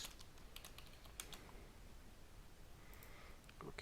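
Quiet, close keyboard typing on a computer, with irregular bursts of soft key clicks, a few louder taps and short pauses between them.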